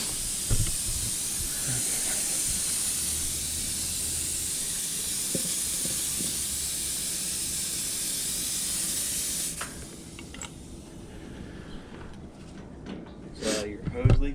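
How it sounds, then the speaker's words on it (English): Air hisses steadily from a leaking gasket on a pressurized hose during a heat pump change-out, a loud broadband rush that stops abruptly partway through, followed by quieter handling noises. "Is your hose leaking or something?"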